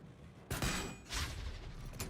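A shot fired in Baldur's Gate 3 during combat: a sharp burst of impact near the start, followed by a second louder swell and a brief final hit, set against a low steady game ambience.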